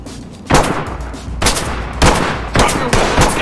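Five sharp, loud gunshots fired at irregular intervals during an armed raid on a post office, each blast ringing out briefly before the next.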